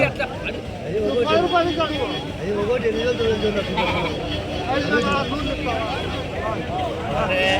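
Sheep and lambs bleat repeatedly at a busy Tuesday sheep market in Kadiri, loud and close, with overlapping cries over a constant crowd hubbub and people talking nearby.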